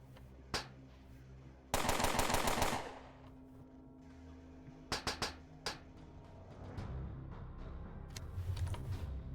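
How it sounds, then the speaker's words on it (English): Gunfire in the Underrail video game: scattered loud single shots, a dense burst of rapid automatic fire around two seconds, then more sharp separate shots over a low background rumble. "Why are you shooting at me?"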